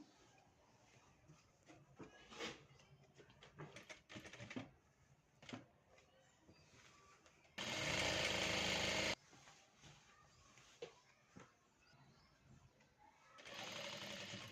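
A sewing machine stitches the side seams of palazzo pants in one short, steady, loud run partway through and again at the end, between quieter handling of the fabric and faint clicks.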